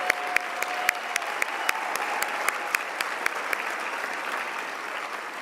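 An audience at a women's hall of fame induction ceremony in Arkansas applauds the inductees: sustained, even clapping from a large crowd, with sharp individual claps standing out near the front against the steady wash.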